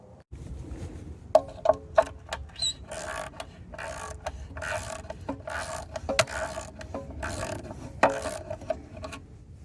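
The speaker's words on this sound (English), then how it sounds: "this filter here, with the 12mm socket or a wrench, you can take it off" A 12mm socket ratchet loosens the fuel filter on a long-idle Honda F501 tiller. Close, uneven runs of mechanical ratcheting clicks and rubbing play over a quiet background, with a few louder snaps.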